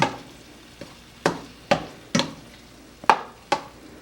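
A vegan fresh summer pasta being folded and mixed in a bowl, giving a handful of sharp clinks and scrapes spaced about half a second apart over quiet background, close and fairly crisp.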